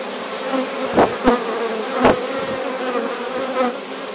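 A dense, steady drone of many honey bees buzzing close by, with a few louder passes and taps rising above the hum.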